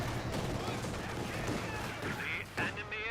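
Artillery barrage shells striking an MG42 machine-gun position in Company of Heroes 2, a steady rumble of distant impacts and crackling gunfire with a sharper blast near the end, heard under a commentator's talking.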